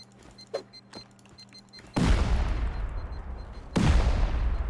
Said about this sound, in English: we kind of blew up the whole foundation on that one